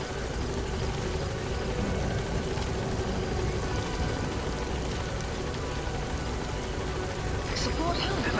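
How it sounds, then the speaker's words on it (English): The Pequod helicopter in Metal Gear Solid V: The Phantom Pain hovers nearby with a loud, steady rotor thrum and engine whine, continuous under radio-style voice chatter. "This is helicopter Pequod."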